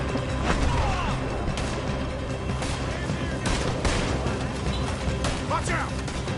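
Gunfire crackles through a video game shootout during a robbery, scattered sharp shots over a dense noisy battle bed, with characters shouting in the background.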